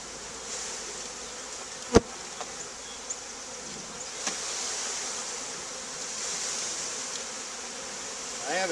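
Honey bees buzz as a package of them is installed into a hive, a continuous close hum of many insects with a few sharp knocks and clicks of handling.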